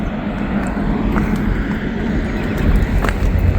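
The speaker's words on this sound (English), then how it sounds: "I hear another train." A CSX train passes through fog in Kentucky, heard as a steady, distant low rumble with broad roar that swells slightly toward the end, with no voices.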